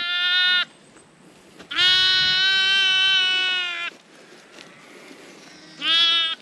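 Ewes bleating in a lambing paddock in Australia, three loud, close, drawn-out calls separated by short quiet gaps, the middle one longest and strongest.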